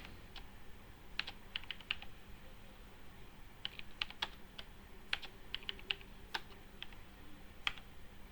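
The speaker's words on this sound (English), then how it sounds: "I'm just simply typing ABC" Computer keyboard typing in a quiet room, a run of sparse, light key clicks arriving in small clusters with short pauses, close and fairly soft, with no one talking.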